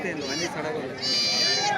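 Sheep bleating at a busy livestock market in Narketpally, harsh wavering calls rising close by over a steady murmur of voices and crowd noise.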